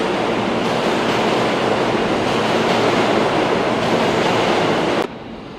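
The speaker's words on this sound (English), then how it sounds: "as we walk through the New York City subway" A New York City subway train roars steadily through a hot, muggy underground station, a loud continuous rumble and rush that drops off sharply near the end.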